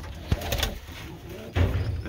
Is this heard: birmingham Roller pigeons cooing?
yes